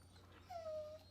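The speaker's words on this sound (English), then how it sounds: "my dog is begging to go, and I'm going to go take her out" A pet dog gives a single short, high whimper, begging to be let outside. It sounds faint and thin, with a low hum steady underneath.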